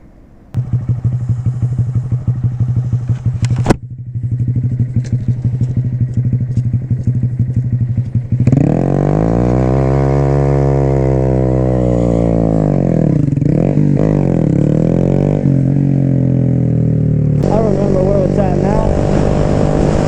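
A big bore Honda Grom motorcycle with a Hindle exhaust idles with a loud popping burble, then revs hard in rising and falling sweeps close by, with a voice briefly audible under the engine.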